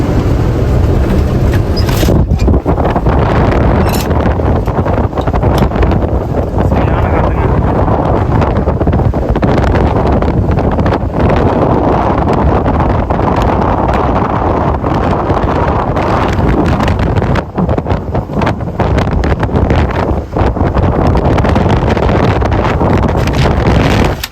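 Steady, heavy wind roaring and buffeting the microphone for the whole stretch, a dense rushing noise with occasional gust peaks and no voices.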